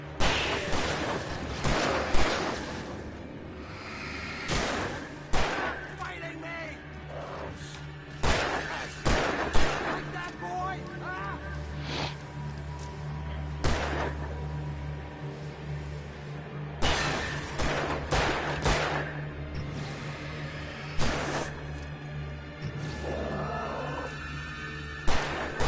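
Gunfire in the Alan Wake video game rings out as repeated sharp shots and bursts scattered across a tense stretch, mixed with thuds and occasional faint voices.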